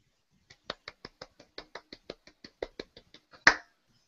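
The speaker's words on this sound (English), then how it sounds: "that was a very poor clap" A rapid run of about fifteen small, sharp clap-like taps at an even pace, ending in one louder, fuller slap, close and dry with no voices.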